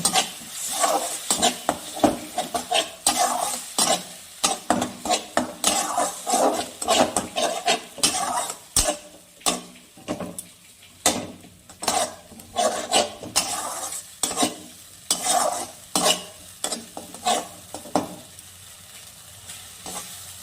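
Mustard-poppy paste with green chilli sautéed in a pan for potol posto, with repeated scraping stir strokes and a steady sizzle, close and fairly loud, no talking.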